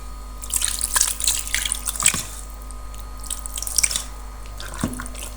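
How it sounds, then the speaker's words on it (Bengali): Water trickles and drips into a bowl of hand-mixed spiced beef in a home kitchen, a few light splashes and droplets close by with faint tap-like running water, no talking. "আমি এখন একটু পানি দিয়ে দিব, খুব বেশি দিব না"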